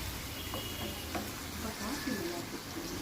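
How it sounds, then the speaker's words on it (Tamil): Onions sautéing in a pan for a nut-rich biryani, a faint soft sizzle with occasional stirring scrapes and light clinks, quiet and close with a murmur of background noise. "இது முக்கால்வாசி வதங்கிடுச்சு வெங்காயம்"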